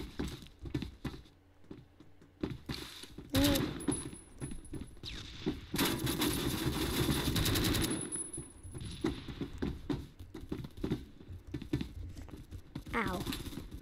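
Rapid automatic gunfire from the online shooter game Phantom Forces comes in dense, irregular bursts, loudest through the middle, with faint talk mixed in.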